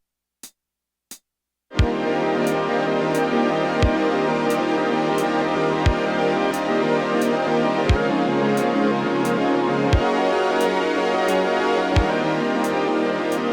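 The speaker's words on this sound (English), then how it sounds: "And the Modor sounds like this." Modor NF-1 synthesizer playing a sustained, buzzy chord pad after two brief clicks, with a pulsing accent roughly every two seconds and a steady ticking high hat-like pattern running through it.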